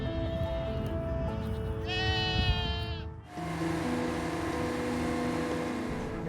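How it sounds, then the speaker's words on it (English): Goats graze under power lines, bleating several times in a row, one call with a wavering tremolo, over a low outdoor rumble with a faint engine-like drone. "using goats to trim the grass and remove some of the fuel from underneath our power"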